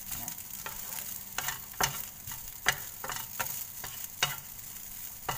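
Rice stir-fried with Thai chili paste in a pan, a soft steady sizzle broken by regular scraping stirs of the spatula, fairly quiet and close.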